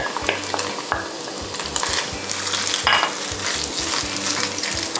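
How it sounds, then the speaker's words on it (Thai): Salted egg yolk and garlic stir-fried over very high heat in a pan for fried shrimp in salted egg sauce, a steady sizzle with repeated scraping strokes of a utensil, close and continuous, no voices. "ใส่ไข่แดงเค็มลงไปเลย ผัดให้ไข่แดงเค็มสุกนะครับ"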